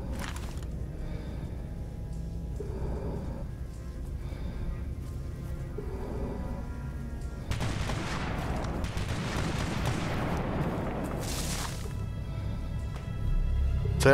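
Gunfire in the video game S.T.A.L.K.E.R. Anomaly: scattered shots crack at a distance, growing denser into bursts in the second half, with one sharp close report.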